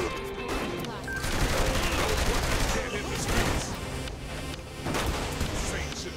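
Sustained gunfire from a Saints Row 3 shootout against enemies: dense overlapping bursts and volleys, loud and continuous, with brief lulls between heavier flurries and some crashing impacts mixed in.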